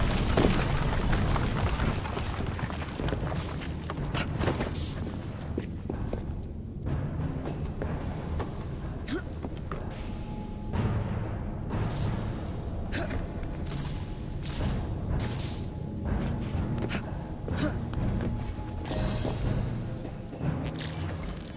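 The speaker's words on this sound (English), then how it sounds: "What was that explosion?" Explosion in the video game Assassin's Creed Syndicate, a heavy rumbling boom blended into a continuous din of game sound effects with thuds and whooshes, with speech faintly in the mix.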